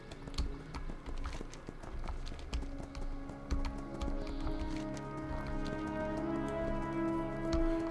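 Hooves of a horse mount in World of Warcraft clip-clop in a quick, regular gait, close and steady, over soft game music with sustained tones.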